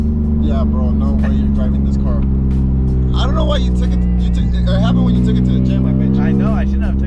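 A Nissan 350Z's exhaust rumbles low and steady while idling, loud and close, sounding rough, with people talking over it.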